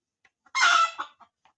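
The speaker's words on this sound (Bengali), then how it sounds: "এগুলো দেশাল মুরগি।" A desi chicken feeding on bran and rice mixed with hot water gives one loud, close cluck-squawk, followed by a few faint clucks in an otherwise quiet yard.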